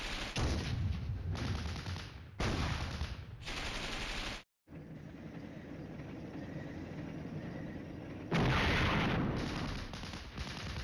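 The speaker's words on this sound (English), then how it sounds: "their artillery is incredibly effective, incredibly responsive. And another ATGM launch." Artillery and gunfire in the Flashpoint Campaigns: Red Storm wargame come as dense, harsh bursts of rumbling explosions and rattling fire in repeated blocks, loud and continuous with brief cut-offs between bursts.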